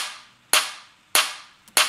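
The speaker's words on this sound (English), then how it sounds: "now the clap sounds really tight" A tight clap layered with a bright, crisp shaker hits in a beat, three sharp, close strikes with a small ghost tap before the last, alone and fairly loud.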